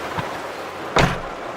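Outdoors in Jamaica, rain falls as a steady, even hiss, with a soft thump early on and a louder splash or bump about a second in.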